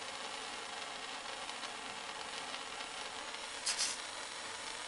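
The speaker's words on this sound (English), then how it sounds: "Heard it sizzle and felt it through the tang." A hot steel knife blade edge sizzles in a steady faint hiss, with one brief sharper crackle partway through.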